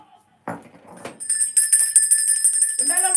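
A bright, sustained bell rings out loudly with a long shimmering tone, after some brief shuffling and a voice at the start, then fades into speech at the end.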